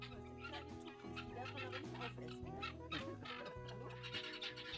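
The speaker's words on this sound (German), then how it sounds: "Schiss vor so ein paar gackernden Federbündeln." A loud group of chickens clucks and cackles continuously at close range, their calls overlapping without pause.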